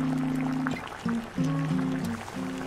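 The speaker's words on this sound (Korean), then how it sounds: "보글보글 끓는 소리가 마치 빗소리처럼 들리는 소머리 수육" Beef head meat boils in a pot, with soft, uneven bubbling and gentle liquid gurgles heard up close and fairly quiet, with no talk.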